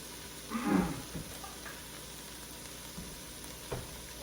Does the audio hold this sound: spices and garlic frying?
yes